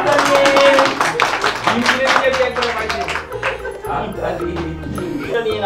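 A group of children clapping in a burst of quick, close hand claps that fade over several seconds, mixed with adult speech and cheering voices.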